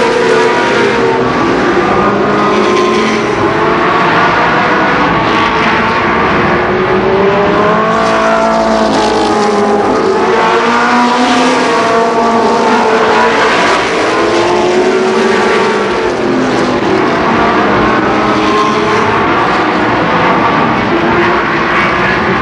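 Race cars roar around Columbus Motor Speedway in a loud, continuous pack, overlapping engines rising and falling as they chase for position through the whole stretch.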